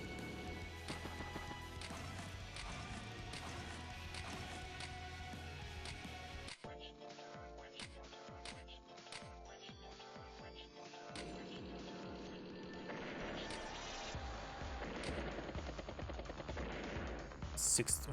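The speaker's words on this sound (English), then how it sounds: "Bike falls with some small arms fire" Small arms fire crackles amid rapid battle effects in Advance Wars: Days of Ruin, sharp repeated shots and crashes layered over game music, with an abrupt shift partway through and dense clattering bursts near the end.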